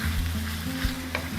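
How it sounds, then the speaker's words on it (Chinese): Sweet and sour sauce for guo bao rou hits a hot wok, producing a loud, steady close-up sizzle with a low bubbling rumble and faint stirring. "下面锅包肉差不多可以出锅了，把刚刚调的糖醋水下锅"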